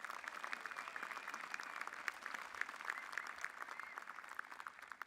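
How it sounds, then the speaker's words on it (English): A university spring commencement crowd keeps clapping in steady, sustained applause that sounds distant and soft, filling the hall evenly with no break. "you are all still clapping"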